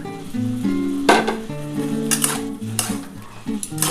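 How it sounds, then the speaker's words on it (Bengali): Tomato and tender green beans sautéing in a pan, a steady sizzle and frying hiss with stirring scrapes and utensil clinks against the pan, all under background music. "তো এটা ভালো করে একটুখানি কষিয়ে নিই।"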